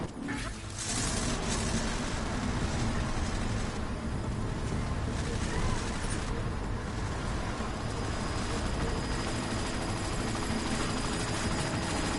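A chopper in the video game Deus Ex drones steadily and loudly for about twelve seconds, a dense continuous rotor roar with a buzzing, insect-like edge and no voices over it.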